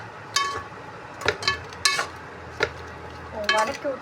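A spatula scraping and clinking in a pan as onions and spices for sambar rice are sautéed, with several sharp metallic stirs over a faint low sizzle.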